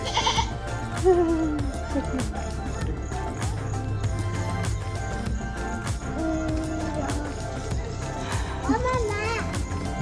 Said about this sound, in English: You're bringing a goat for a walk.